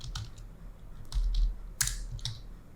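Bursts of typing on a computer keyboard, several quick clusters of close, crisp key clicks separated by short pauses, with no voices.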